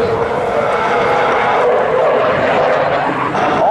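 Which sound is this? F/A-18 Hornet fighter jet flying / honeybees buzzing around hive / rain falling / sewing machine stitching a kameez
F/A-18 Hornet fighter jet flying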